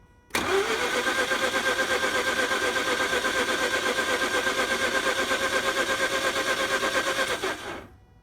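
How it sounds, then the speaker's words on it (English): Mazda RX-8 rotary engine cranking with the starter during a Seafoam cleaning, one loud continuous churning run of about seven seconds that cuts off abruptly, with no speech. "Ignition on, give it a second, then crank."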